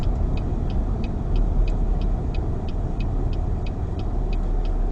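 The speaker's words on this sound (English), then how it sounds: "Right foot on the brake, and I'm going to stop before the stop sign." A car slows to a stop at a stop sign by a T intersection, with a steady low road and engine rumble inside the cabin and a turn signal ticking at an even pace throughout.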